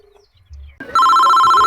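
A telephone starts ringing after a short quiet moment, its steady electronic bell tone sounding loud and close, alone without talk.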